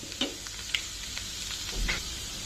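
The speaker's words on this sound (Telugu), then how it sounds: "బాండి పెట్టుకొని దీనిలో ఇప్పుడు మనం పోపు గింజలు వేసేసుకుందాం" Soft, steady sizzling of mustard seeds and other tempering seeds in hot oil in a wok, with a few faint pops and crackles over the hiss.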